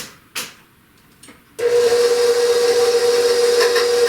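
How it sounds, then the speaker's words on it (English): Electric mixer beating eggs into almond crinkle cookie batter, starting with a few light clatters, then kicking into a loud, steady high whine that runs unbroken to the end. "Now we're going to beat this till it's fluffy"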